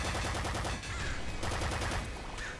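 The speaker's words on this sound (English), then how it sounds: "Those explosions sound chunky." Dense, continuous bursts of explosions and rapid gunfire-like blasts from the game Nuclear Throne Ultra Mod, loud and chaotic, filling the whole stretch without pause.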